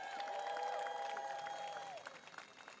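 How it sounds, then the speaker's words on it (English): An audience at an elementary school culmination ceremony claps for a group of students, a fairly faint, steady patter of applause that fades and thins near the end. "Let's give them a round of applause."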